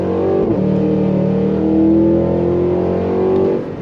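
A 2023 Cadillac Escalade V SUV accelerates under throttle, its engine note droning steadily and loud from inside the cabin, rising slightly in pitch across a few seconds as the gears hold.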